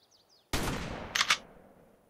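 A pump-action shotgun fired in the video game ARK: a single loud, close blast that rings out briefly, followed by a quick mechanical clack as it decays.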